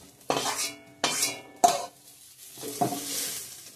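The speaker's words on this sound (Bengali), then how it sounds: "সোয়াবিনও ভেজে রাখি, একখানে রেখে দেবো সব" Soybean chunks fried in a pan with a little turmeric, giving a few sharp scraping stirs and utensil clatters over a soft sizzle, close and fairly loud, with no talking.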